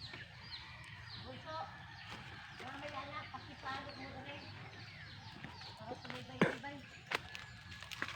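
Chickens cluck and a rooster calls around a provincial farmyard among other livestock, with scattered bird calls over a steady background and a sharper call near the end; voices murmur at times.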